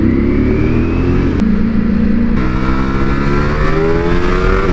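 A motorcycle at a bikes-and-coffee meet accelerates hard, its engine note climbing steadily through rising harmonics, loud and close, with a brief gear-change dip partway through and no talk.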